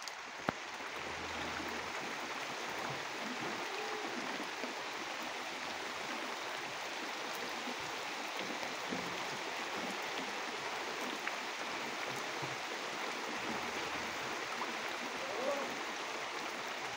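Steady rain falls outdoors as a continuous, even hiss of drops over a garden with crops, moderately close and unbroken throughout, with no clear voices.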